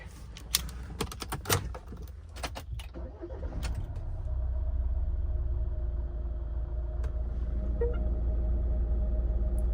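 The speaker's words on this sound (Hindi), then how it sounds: "तो वो एक इंजन कवर के कारण एक अलग से आवाज़ आ रही है इंजन में।" Clicking and clattering rattles, then a Mahindra XUV700 diesel engine starts and settles into a steady idle hum with a faint metallic buzz riding on it from a loose engine cover.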